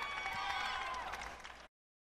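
Large crowd of nearly a thousand spectators applauding at a Coliseum during the NCAA air rifle championship, dense steady clapping and cheering that fills the space, then cuts off abruptly.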